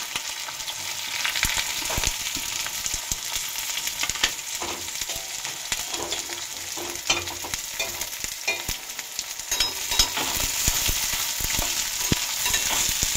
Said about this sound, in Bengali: পেঁয়াজটা ভালো করে ভাজা হোক, যতক্ষণ গোল্ডেন ব্রাউন কালার না আসে